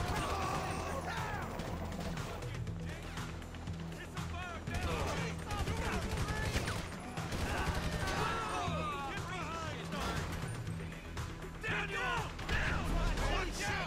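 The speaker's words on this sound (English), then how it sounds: "Gatling gun fucked me up." Gatling gun fire in GTA 5 Online, a rapid, continuous rattle of shots with crashes and shouting mixed in, loud and close, with a man yelling over it.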